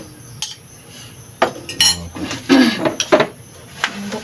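Rice scooped from a pot with a ladle onto a plate, giving scattered metallic scrapes and clinks of utensil against cookware, a few sharp knocks close by with quiet gaps between.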